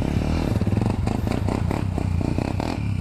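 An Apollo 125cc dirt bike engine revs hard in rapid pulsing bursts while the rider pops a wheelie, loud and close, with clattering mechanical noise under it.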